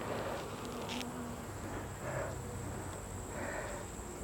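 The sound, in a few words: honey bees buzzing in a hive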